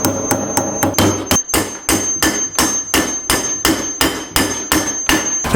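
Sharp, evenly spaced hammer blows driving a metal wedge into an axe handle, about a dozen ringing strikes in quick steady rhythm, close and loud.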